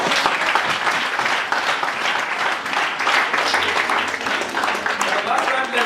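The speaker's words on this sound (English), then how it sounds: "Let's clap our hand for Jesus." A church congregation claps their hands for Jesus in sustained, lively applause, with voices and cheering mixed in throughout.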